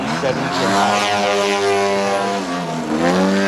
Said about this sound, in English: This is a 38-pound airplane powered by a DA-170